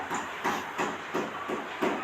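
Cumin and mustard seeds crackle and sizzle in hot oil, a steady hiss broken by regular popping bursts roughly every third of a second, close up.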